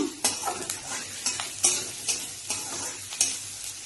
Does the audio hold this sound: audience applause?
no